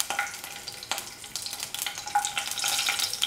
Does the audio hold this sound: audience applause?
no